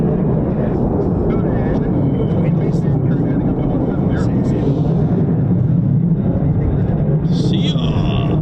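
A USAF 48th Fighter Wing F-15 or F-35 makes an unrestricted climb out of RAF Lakenheath, its loud, sustained jet roar filling the whole stretch while someone talks over it.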